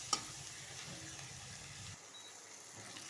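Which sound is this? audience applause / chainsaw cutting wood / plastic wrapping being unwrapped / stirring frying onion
stirring frying onion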